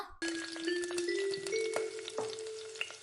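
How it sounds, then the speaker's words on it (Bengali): Eggs frying in a home kitchen pan, a crackling sizzle that starts suddenly and keeps popping at moderate volume, with a steady ringing tone and occasional clinks. "আপনার জন্য রুটি সেকছি আর ডিম ভাজছি"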